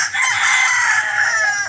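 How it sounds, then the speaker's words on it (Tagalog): A rooster crows once, loud and close, in a backyard with chickens, the call rising and holding for over a second before breaking off. "aking mga alagang manok."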